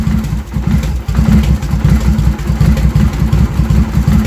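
A 2007 Victory Vegas motorcycle engine sits at low idle, a close, loud, steady lumpy throb with brief dips, no talking.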